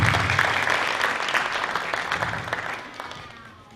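Audience applause at the 2020 Viera High School Hall of Fame induction ceremony, a full hall clapping for a coach, starting strong and gradually fading away, with no voices over it.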